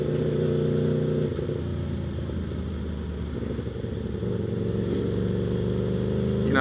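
A continuous close engine drone from an Aprilia RSV4 Factory superbike, steady and fairly loud with a gentle dip in the middle, then swelling again as the revs climb at the very end.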